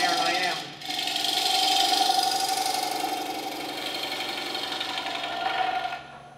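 A woodturning gouge rides lightly on spinning wood on a lathe, giving a steady whirring, buzzy cutting tone with a brief dip near the start, close and continuous, with someone talking over it.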